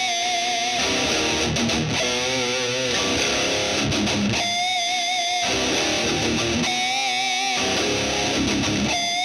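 A heavily distorted electric guitar plays an interlude riff at full speed, a loud, dense wall of chugging chords with brief stops and restarts, all instrumental.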